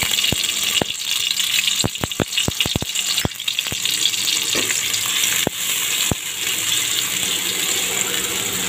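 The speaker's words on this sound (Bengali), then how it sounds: "হাফ কাপ পেঁয়াজ কুচি দিয়ে দিলাম, দিয়ে হালকা নাড়াচাড়া করে দিলাম।" Half a cup of chopped onion fries in half a cup of cooking oil with a steady sizzle, punctuated by a run of sharp, irregular spatula taps against the pan as it is stirred. No voices.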